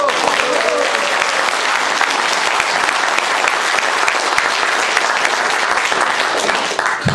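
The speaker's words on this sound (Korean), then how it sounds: "박수!" Sustained applause from a crowd at a political speech in Toronto, steady and loud from start to finish, dense clapping with no pauses.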